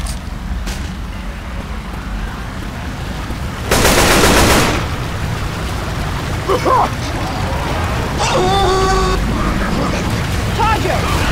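Sniper rifle gunfire in the Left 4 Dead 2 video game, a loud sharp burst near the middle over steady game ambience and background noise, with people talking now and then.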